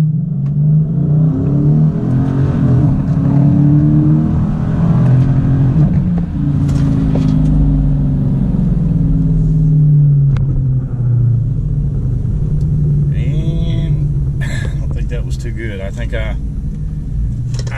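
A Dodge Challenger R/T's engine roars with a deep, heavy rumble as it accelerates hard down a drag strip, loud and close throughout, with a few sharp clicks near the end.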